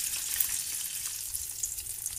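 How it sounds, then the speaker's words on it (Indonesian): Batagor tofu pieces sizzle in hot oil over medium heat, a steady close crackling hiss with scattered small pops and no voices. "Lanjut bisa kita goreng di api sedang di minyak yang udah panas"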